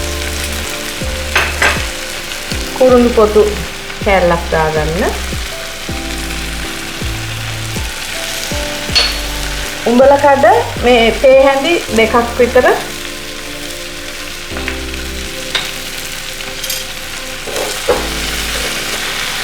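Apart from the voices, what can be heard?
cut pineapple frying and sizzling in a pan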